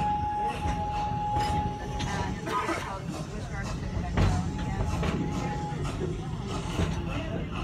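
The Serengeti Express open ride train at Busch Gardens Tampa Bay rumbles along steadily with clacks and rattles, while indistinct voices murmur faintly in the background.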